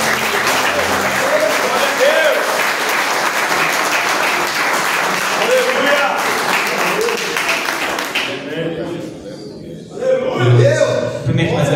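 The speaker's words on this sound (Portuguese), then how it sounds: "as palmas lá agradecem" A church congregation applauds in a dense, steady wash of clapping for about eight seconds, then the applause fades and a voice speaks.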